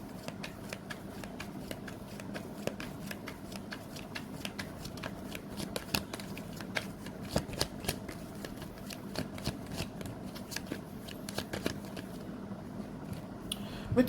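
Tarot cards shuffled by hand in a steady, continuous riffle of soft papery flicks and slaps, fairly faint and close, with no talking.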